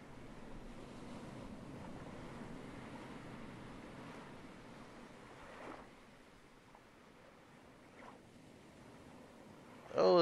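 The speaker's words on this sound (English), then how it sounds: "Oh, there's some big old waves." Big ocean waves in the survival game Stranded Deep, a steady rolling surf roar with wind noise, swelling at moments and briefly louder at the very end.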